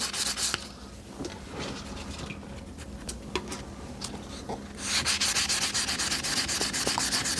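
Sandpaper rubs over a cracked vintage Telstar phone in close, continuous scratchy strokes, softer at first and then growing louder and faster in the second half.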